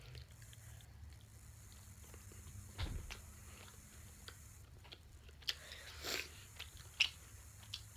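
A person chews cheese close by with soft, irregular wet bites and smacks, quiet and spread over several seconds, with no talk.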